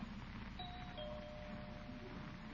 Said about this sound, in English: Guess she didn't hear the bell.